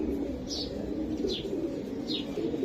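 Low, steady cooing from a female Army pigeon, a racing-line bird, runs continuously at moderate volume with a few faint chirps breaking over it.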